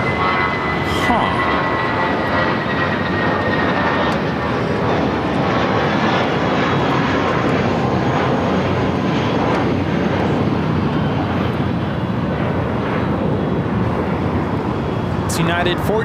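Airliner jet engines roar steadily at LAX as the plane taxis away from the gate, a loud continuous rumble and whine throughout, with voices faintly under it.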